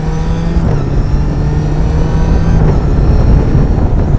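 The engine of a supercharged Caterham 620R, a street-legal lightweight sports car, roars loud and close with a steady, gritty drone that swells slightly under throttle.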